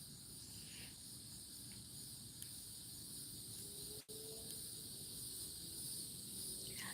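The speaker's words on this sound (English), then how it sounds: "the crickets came out because it's getting ready to storm" Crickets chirping outdoors as a storm approaches: a faint, steady high-pitched trill that runs through the whole stretch, far off and alone, with no talk.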